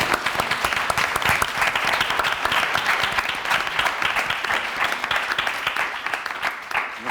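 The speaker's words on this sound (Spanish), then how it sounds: "Y me gustaría pedir para Begoña un aplauso muy fuerte." A large audience applauds loudly and steadily at a science outreach evening in Madrid, dense clapping running without pause throughout, with no talk over it.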